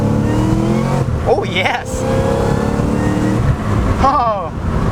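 700HP Cadillac CTS-V wagon accelerating hard in first gear, its loud V8 engine rising in pitch through a couple of revving pulls, close up, with someone speaking briefly over it.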